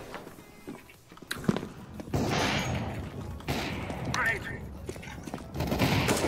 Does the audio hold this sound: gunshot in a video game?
yes